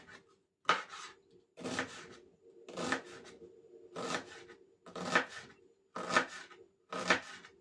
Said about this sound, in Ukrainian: І також нарізаю цибульку соломкою на 4 частини розрізала.